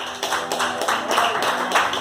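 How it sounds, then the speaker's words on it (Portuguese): Clapping from a church congregation during a sermon, rhythmic bursts of many hands striking together in a steady beat, fairly loud, with background voices mixed in. "Palmas para o nosso Senhor Jesus."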